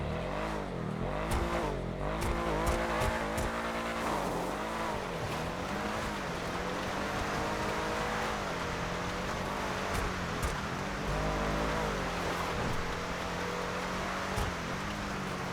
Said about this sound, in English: the Nightshark actually sounds pretty good, which is quite strange for a off-road sort of militarized vehicle